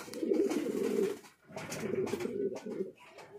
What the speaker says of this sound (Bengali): এটা একটা লোটন আছে সিঙ্গেল মেয়ে, এটাও রেখে দিয়েছে।